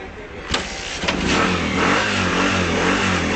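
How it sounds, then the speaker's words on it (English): A motorbike engine cranks with a couple of sharp clicks, then catches and settles into a steady, loud idle rumble. "so I can start the bike now."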